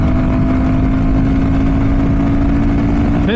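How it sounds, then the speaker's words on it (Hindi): A Royal Enfield Guerrilla 450 motorcycle pulls hard in fifth gear at high speed, its engine a steady loud drone mixed with heavy wind roar throughout, with no voices. "फिफ्थ गियर पे खींचना मैंने स्टार्ट करा इसको भाई"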